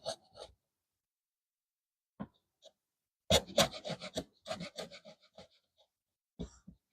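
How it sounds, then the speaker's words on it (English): Chisel paring and scraping a wooden edge on a deckbox in a workshop, a few short close scrapes separated by quiet pauses, then a denser cluster of rasping strokes. "So let me clean that edge up just a little bit with a chisel."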